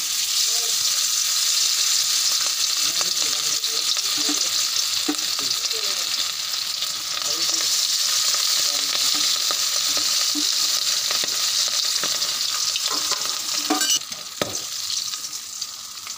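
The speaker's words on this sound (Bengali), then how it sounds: "এবার আমি মাছগুলো এক এক করে তেলে দিয়ে দিচ্ছি।" Hilsa fish pieces fry steadily in hot oil in a kadai, a dense continuous sizzle with occasional sharper spits and pops, close and loud throughout.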